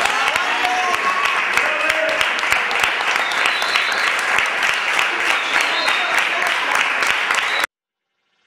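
Applause for the two lead actors, Alfonso and Marco, at the end of shooting an Italian short film against bullying: dense, steady clapping from a small group, loud and close, lasting about seven and a half seconds before stopping abruptly, with some voices mixed in.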